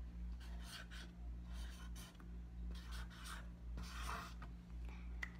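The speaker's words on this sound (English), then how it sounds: "And I'll write the rest." A pen or marker writes numbers onto a cardboard cereal box calendar, making soft scratchy strokes in short bursts over a steady low background hum, with no talking.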